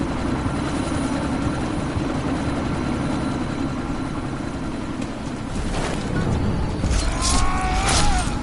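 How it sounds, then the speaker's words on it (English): A helicopter in Deus Ex: Mankind Divided roars steadily with a low engine drone and rotor wash, swelling louder toward the end as it lifts off, with no talk over it. "That chopper's about to take off!"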